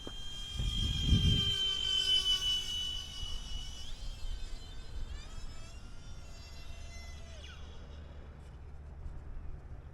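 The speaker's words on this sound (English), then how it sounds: "All right, now we're gonna take her in for a landing." A small UMX RC model airplane comes in to land, its electric motor whining steadily with a buzzing, insect-like tone that shifts in pitch as the throttle changes, heard up close and alone.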